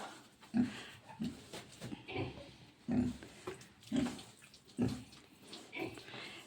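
Piglets grunting and snuffling close by in short repeated bursts, with some wet, splashing noises between them.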